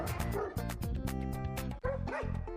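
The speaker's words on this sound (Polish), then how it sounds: "Możecie mieć takiego flipa, takiego cudownego, kochanego, niedużego, średniego psiaka, który marzy o swoim domu." A medium-sized shelter dog barks and yips repeatedly up close in quick bursts, with a few whimpering cries between them.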